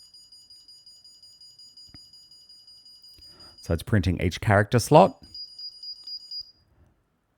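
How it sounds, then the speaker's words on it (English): A calculator running a BASIC program emits a quick train of short, evenly spaced high-pitched beeps, then a steady tone returns briefly after someone speaks over the middle. "high beep, low beep. Then it's going to loop back and start again."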